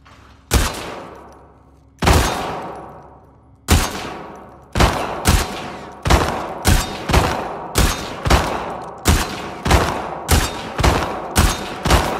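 Rifle shots ring out one by one in The Last of Us Part II until a full magazine is spent. Each report is sharp and loud, the pauses start long and grow shorter as the shots speed into a steady rhythm.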